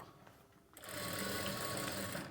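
A sewing machine stitching an invisible zip starts up after a brief quiet moment, then runs in a fast, steady, close mechanical whir to the end.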